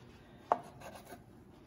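A metal spatula chops down through a rolled ham and cheese omelette on a Blackstone 17-inch griddle, giving one sharp scrape-tap and then a few softer rubbing strokes, close and quiet.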